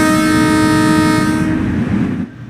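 A Metro-North M3A train horn in a train simulator game sounds one loud, steady multi-tone blast lasting about two seconds, then cuts off, leaving a low rumble of the train underneath.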